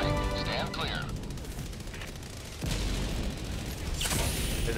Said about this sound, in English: Walking barrage. Stand clear.